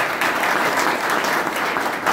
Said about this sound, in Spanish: Yo quiero un aplauso grande a David.